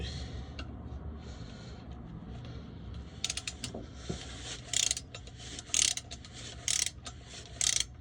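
A ratchet with a 10mm socket turns bolts during transmission work, giving several short bursts of clicking spaced about a second apart over a steady low hum, fairly close.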